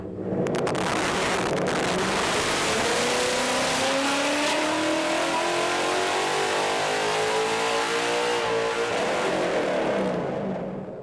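A car engine on a dyno climbs steadily in pitch under full throttle for several seconds, hits its rev limiter around 6,800 rpm with a brief stutter, then drops away; loud and close, with no talking.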